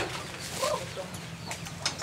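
Chickens at a Filipino backyard poultry farm cluck and chatter faintly amid a steady low hum of farm background noise, with a few soft, scattered calls.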